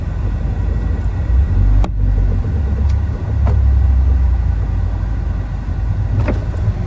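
A car drives along on a hot day, its steady low road rumble and engine hum filling the cabin, with a few brief clicks and knocks over the continuous drone.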